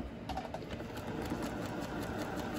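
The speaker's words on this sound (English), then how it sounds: "I'm going to start sewing on this one just like I did the other" A sewing machine hums steadily while stitching a zipper pouch, a constant fairly quiet mechanical whir with a faint rhythmic ticking throughout.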